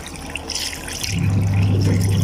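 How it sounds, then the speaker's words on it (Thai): Cold tap water runs steadily into boiled tapioca pearls to rinse them, a soft splash that swells into a fuller, continuous gush partway through, with no voices over it. "ล่างเอาน้ำเย็นล่างจ้ะ"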